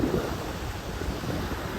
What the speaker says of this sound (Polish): Trochę fale się wzmogły, nie sądzicie?